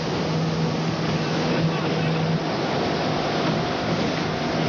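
A runaway motorboat circling on the water drones steadily over rushing water and wind, constant and fairly loud throughout.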